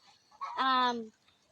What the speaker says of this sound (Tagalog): ang daming alaga ni Kuya, may mga pato, manok, ay may baboy pa si Kuya